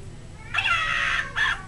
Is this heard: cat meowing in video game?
yes